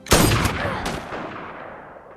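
Gunfire in a film scene where a girl is shot at during training: a sharp shot with a second burst, loud and close, then a ringing decay fading over about two seconds, with no talking.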